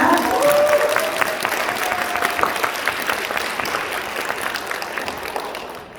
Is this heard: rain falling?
no